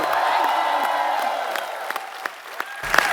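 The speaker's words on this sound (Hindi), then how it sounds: "जोरदार तालियों से स्वागत होना चाहिए" A television comedy show audience applauds and cheers to welcome wrestler guests, loud crowd clapping and whoops filling the room, with a few sharper claps standing out and a brief voice near the end.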